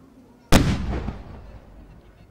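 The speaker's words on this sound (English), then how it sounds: "A 21-gun salute," A single sharp cannon blast from a 21-gun salute at Fiji's independence anniversary celebration at Albert Park, with a loud sudden onset and a long rolling echo that fades slowly.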